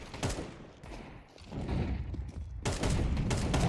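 Gunfire in a Counter-Strike 2 match on Overpass comes as scattered distant shots and short bursts, fairly faint, with a denser, louder volley toward the end.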